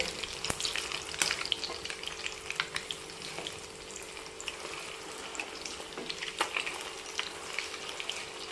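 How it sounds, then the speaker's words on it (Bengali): Egg balls for egg Manchurian sizzle in hot oil in a pan with a continuous crackling hiss, punctuated by clicks and scrapes as they are turned over. No one speaks. "উল্টে পাল্টে আমি ভালো করে ভেজে নিচ্ছি বলগুলো"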